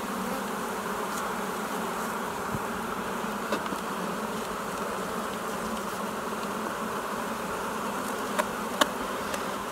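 Dense, steady hum of a honeybee colony in an opened hive, a continuous buzzing drone of many bees close by with a few individual bees passing louder near the ear, no talking.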